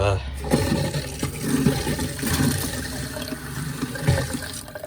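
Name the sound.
water running from a tap into a toilet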